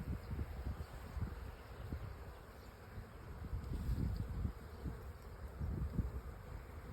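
A honey bee swarm buzzes softly and steadily, with wings flapping around a wooden box. The hum is faint and continuous, with small swells in loudness and no voices.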